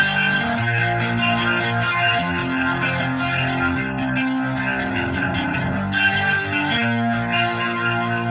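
A Yamaha YC stage keyboard played through a British Lead distortion effect, sustained gritty chords and notes with chorus and echo, loud and continuous with a brief change near the end, no talking.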